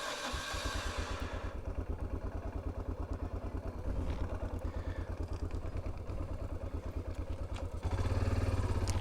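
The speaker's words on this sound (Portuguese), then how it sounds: "Vamos pôr a moto ali no coberto." A 1988 Yamaha Ténéré motorcycle engine idles and putters nearby in the Amazon rainforest with a steady rhythmic throb, then revs louder near the end.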